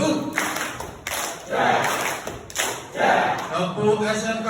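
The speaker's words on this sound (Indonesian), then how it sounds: "Ya, tepuk SMK BU." Students at SMK Bina Utama clap out their school cheer together in bursts of rhythmic group clapping mixed with shouted chanting, loud and close, with short pauses between rounds.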